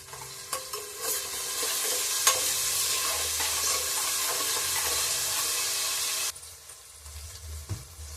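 Chopped onions for egg biryani sizzle loudly in a pan with steady hissing and occasional stirring clinks; the frying noise stops abruptly near the end, leaving only faint clatter.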